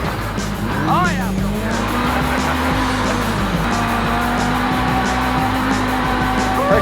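A Pro R off-road vehicle driven hard, its engine droning loud and close with a rising whine, while tires squeal and skid over it, under a voice speaking.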